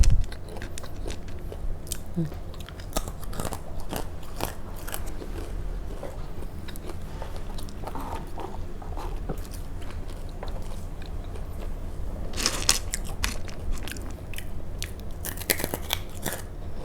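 Crispy baked fruit chips being bitten and crunched, with repeated sharp crunches and chewing, some bursts loud and close, running steadily throughout.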